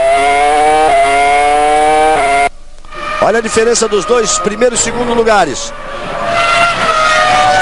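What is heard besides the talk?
Formula 1 race car engine on track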